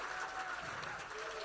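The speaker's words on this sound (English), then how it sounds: "give them both a big round of applause" Fundraiser audience claps for donors, a brief, moderately faint spread of applause continuing evenly throughout.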